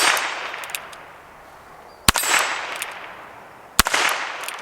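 Two sharp .22LR shots from a Ruger Wrangler revolver ring out at a steel plate, each crack followed by a bright metallic ring that decays over about a second, spaced well apart, with no voices.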